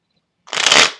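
A Bicycle zombie-themed deck of smooth, slightly stiff playing cards shuffled once, a short close riffle that swells and fades after a moment of silence.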